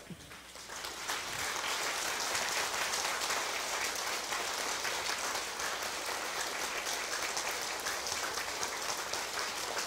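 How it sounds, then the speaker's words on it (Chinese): A crowd applauds a councillor at a Taiwanese civic meeting: dense, sustained clapping that swells in the first seconds and holds steady throughout, with no voices over it. "咱来掌声鼓励咱的罗委员"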